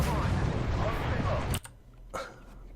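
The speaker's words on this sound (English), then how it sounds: "That shot you just saw went through the gap there between the turret and the tank." A tank cannon firing in the Armoured Warfare video game, a dense, roaring blast that cuts off abruptly, followed by a quieter metallic clank a moment later.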